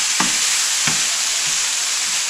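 Ground moose meat for homemade creton cooks in a pan with a steady sizzle, punctuated by a couple of soft scraping stirs of a utensil; close, with no talking.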